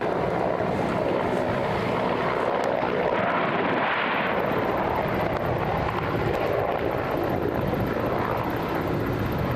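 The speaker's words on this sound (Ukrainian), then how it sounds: "Пара бойових гелікоптерів Мі 8 до точки пусків некерованих ракет підходить над самою землею." A loud, continuous rotor and engine roar dominates throughout, heavy and close, as a pair of Mi-8 helicopters pass low overhead, just above the ground.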